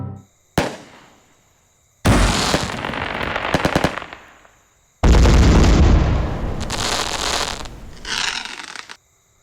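Video game firecrackers for a Diwali celebration go off in loud crackling volleys, a sharp single bang first, then long dense rattling bursts separated by a pause.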